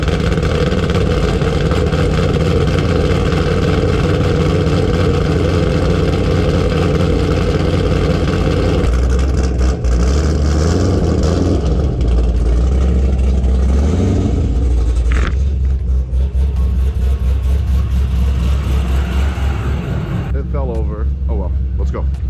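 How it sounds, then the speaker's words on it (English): A car with a Z Automotive Tazer does a winter cold start: a loud, steady high idle that settles lower partway through, with a few revs and a voice talking over the engine. "let's get a cold start."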